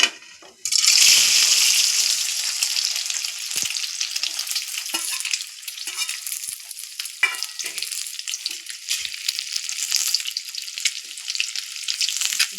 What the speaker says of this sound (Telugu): నేను ఇంకా ఆయిల్లో వేస్తున్నానండి